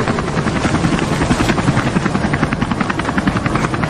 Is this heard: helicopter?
yes